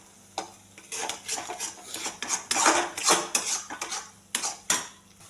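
Masala and curd being roasted and stirred in a pan for dhaba-style paneer do pyaza: repeated scraping and clinking of a spoon against the pan in uneven strokes, close and fairly quiet, with no talking.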